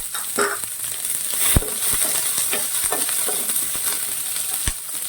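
Onions sizzle steadily in a hot pan while cooking drumstick leaf fry, a continuous crackling hiss broken by occasional stirring scrapes and light taps.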